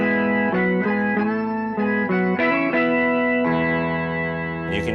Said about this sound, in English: The coolest effect you can get with a POG is an organ sound.